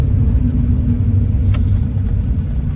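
Engine of a Honda S2000 pulling at low revs while driving, a loud steady rumble heard from inside the car with constant road noise and no talking.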